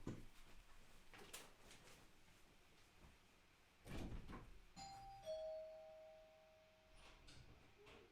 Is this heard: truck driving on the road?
no